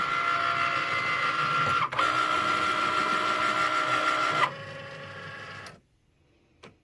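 A Cricut cutting machine cuts faux leather with a steady mechanical whir and a clicking carriage, loud and close. It stops briefly, then runs again before dropping to near silence.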